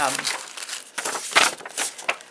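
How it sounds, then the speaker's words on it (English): Crinkly packaging crumpled by hand while unpacking a bead subscription box, a close series of irregular rustling and crackling bursts. "Sorry about the crumpling."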